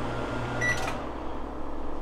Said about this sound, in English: I have to put it in the microwave.